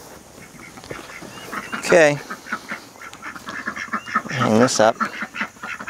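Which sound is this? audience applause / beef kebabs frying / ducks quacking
ducks quacking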